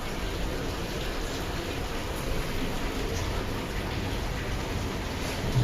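Heavy rain pours steadily outside a house in Gokak, a dense, even hiss of falling water that stays constant and moderately loud throughout, with no talking.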